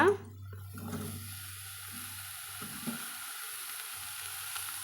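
Cauliflower goes into hot, spiced oil for a cauliflower gravy, with a sharp burst at the start settling into a soft, continuous sizzle and hiss.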